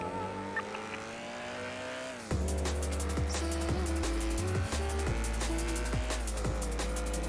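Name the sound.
car engine revving in video game GTA 5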